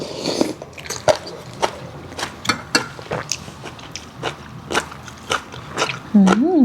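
Someone eats rice with a field crab and vegetable stew, with soft bites and crunchy chewing clicks spaced through the bite. A brief voice cuts in at the end.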